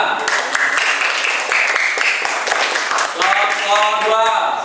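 Classroom applause from a group of students, loud sustained clapping lasting the whole stretch with a few voices mixed in.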